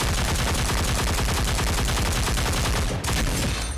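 Rapid automatic gunfire in the mobile battle royale game Cyber Hunter Lite, a loud continuous stream of shots with a brief break near the end.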